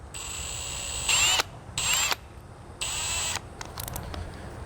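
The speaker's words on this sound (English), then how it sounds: "drill a small pilot hole using the deck receptacle as a template" Three short bursts of a high-pitched power drill whining at high speed while drilling a small pilot hole in a pontoon boat deck, each about half a second, separated by brief pauses, with a few faint clicks after.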